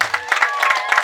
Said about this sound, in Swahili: Makofi na vigelegele jamani.